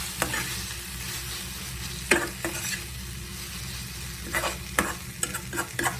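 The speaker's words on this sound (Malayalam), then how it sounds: "ഇതൊന്ന് വെച്ചാൽ ഒന്ന് മിക്സ് ചെയ്യാം" Wilted vegetables in a pan with a couple of teaspoons of sauce stirred through them, a low steady sizzle under irregular clinks and scrapes of the spoon against the pan, close by.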